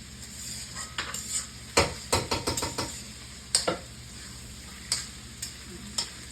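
Boiled potatoes tipped into a hot pan for singara filling and stirred, giving a scatter of clattering scrapes and knocks over a low, steady sizzle, close by with no talk.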